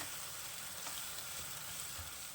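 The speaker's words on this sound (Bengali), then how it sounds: "আমি কিছুক্ষণ এটাকে নাড়িয়ে নেব ভুনা করে নেবো" Kashmiri red chilli pickle stir-fried in a pan: a steady, soft sizzle of frying with faint stirring scrapes, quiet and continuous throughout.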